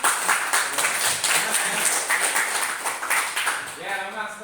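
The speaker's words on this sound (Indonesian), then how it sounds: "Ya, sip, bagus tepuk tangannya." Classroom students clap together after a group representative steps up, a lively burst of applause with a teacher's voice speaking over it.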